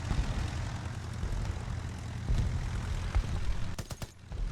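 Droning World War I era propeller aircraft engines in the War Thunder combat game, a steady low hum with a few sharp bursts near the end.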